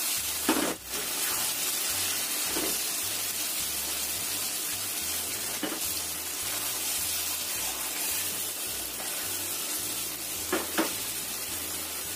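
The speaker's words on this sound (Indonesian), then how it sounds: "Kita goreng tahunya." Tofu frying in a Teflon pan, a steady bright sizzle that runs throughout with a few soft clinks and stirring knocks, close and without talk.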